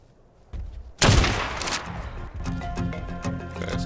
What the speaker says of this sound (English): So I'm going to test out my long neck rifle.